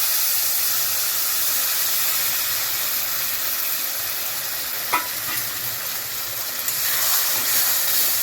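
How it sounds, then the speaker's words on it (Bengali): Water hits a hot pan of chilli garlic prawns, raising a loud, steady broadband hiss and sizzle of steam, with a couple of faint scrapes partway through and no talk. "এবার এর মধ্যে আমরা মোটামুটি আধা কাপের মতন জল দেব।"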